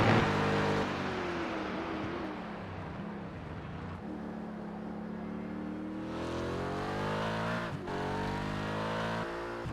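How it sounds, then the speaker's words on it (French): An Aston Martin GT3 race car laps the COTA track in a sim racing game, its engine revving through rising and falling gear changes, loud and continuous with some tire noise. "On va suivre justement une des seules Aston Martin sur la piste."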